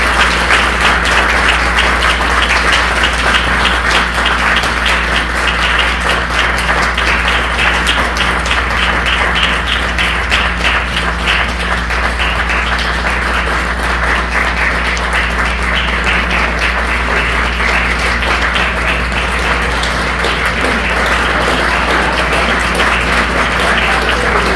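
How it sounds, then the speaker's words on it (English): Sustained applause from a large audience, loud and steady, dense clapping continuing throughout without a break. "One more round of applause, please."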